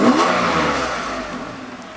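A Mercedes engine revs up as the gas pedal is tapped, a loud mid-pitched rise heard close by that then slowly eases back down, with no talking.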